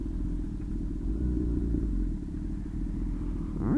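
Honda CB1000R motorcycle ridden around town, its engine a steady low rumble throughout with a rising whine near the end, no talking.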